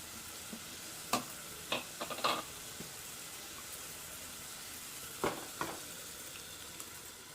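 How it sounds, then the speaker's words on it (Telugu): Masala paste stirred into sizzling brinjal and drumstick curry in a pan, a low, steady hiss of frying broken by a few soft spoon scrapes and knocks, faint and close with no talk. "వేసుకొని ఒకసారి బాగా కలుపుకోవాలి, అంతా కలిసేలాగా కలుపుకోవాలండి."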